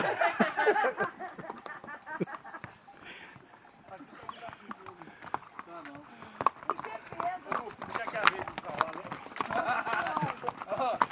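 A horse runs with a steady, rhythmic clip-clop of hooves at moderate distance, and voices talk over it throughout.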